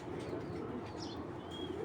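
A female racing pigeon cooing, soft low rounded coos repeating close by, faint against a quiet background, with no talk.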